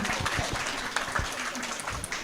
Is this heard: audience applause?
yes